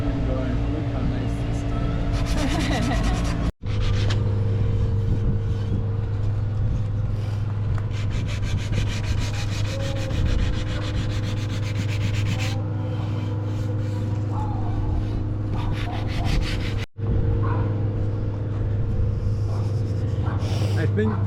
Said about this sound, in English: All the wood on the boat is now sanded.